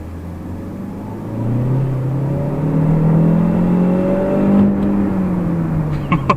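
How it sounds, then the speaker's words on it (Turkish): The LPG-fuelled engine of a Chery Tiggo 8 Pro drones steadily while driving, its low hum rising and falling in pitch as it accelerates, with a brief clatter near the end. "Şu motorun sesi gerçekten felaket arkadaşlar"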